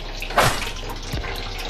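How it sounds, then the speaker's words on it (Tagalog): A weak trickle of water from a household tap runs steadily, with a brief louder splash near the start, heard close and alone. "Tingnan mo mga kapax, mahina talaga ang tubig mga kapax."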